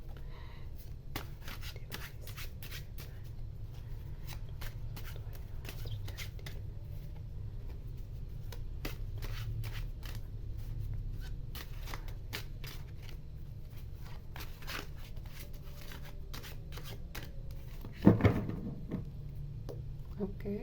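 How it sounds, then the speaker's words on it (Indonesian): Tarot cards are shuffled up close in soft repeated riffles and light flicks against a quiet room background, ending with a brief sharper knock of the deck. "Aku mulai untuk shuffle kartunya."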